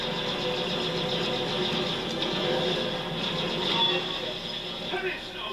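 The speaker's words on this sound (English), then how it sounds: "what's the deal with like the train? Is it just like a ghost train?" A ghost train in the game LEGO Batman 3: Beyond Gotham gives a steady rumbling roll with faint squeals, continuous and fairly loud throughout, with a voice speaking over it.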